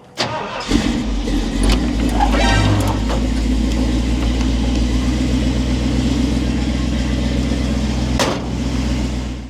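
A Ford Bronco with a big block 460 V8 rumbles up close with a heavy, deep, steady drone, and a brief rise in engine note early on, running continuously throughout.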